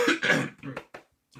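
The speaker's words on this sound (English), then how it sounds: "Got a little fucking cough phlegm there." A man gives a short, rough phlegmy cough and throat clear, a couple of close harsh bursts followed by fainter trailing sounds.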